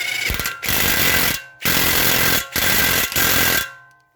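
An impact tool drives home the center axle bolt on the drive shaft of a VW Passat 3C2 V6 3.2 FSI in four loud, close rattling bursts of about a second each, with short pauses between them.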